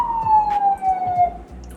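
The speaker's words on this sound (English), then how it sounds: "Sirens. So annoying." A single siren tone sliding slowly downward, sustained for over a second and fairly distant, with low rumbling noise beneath it.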